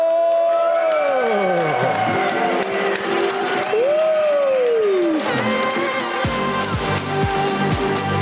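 A short burst of audience applause in a conference hall rises suddenly near the end, following a stretch of sweeping electronic tones.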